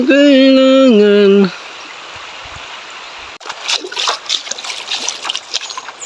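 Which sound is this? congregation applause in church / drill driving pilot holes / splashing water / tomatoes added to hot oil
splashing water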